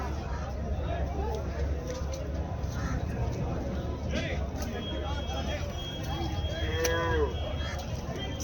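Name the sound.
water buffalo mooing at a buffalo market in Erode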